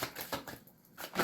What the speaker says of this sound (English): I like to shuffle until you spit me out some cards